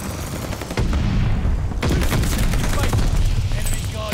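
Rapid bursts of gunfire in the shooter game Call of Duty: Vanguard, loud and close, a dense rattling barrage that swells after the first second and carries on without pause.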